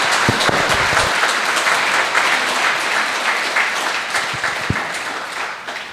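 An audience at a Catholic parish marriage mentoring lecture applauds the lecturer, a loud, dense burst of clapping from a nearby room full of people, strongest at the start and easing gradually over several seconds.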